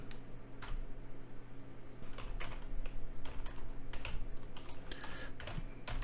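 Fingers tap out a password on a computer keyboard while logging in to a freshly set-up virtual machine, giving a quick run of crisp, close key clicks in short bursts with no talking.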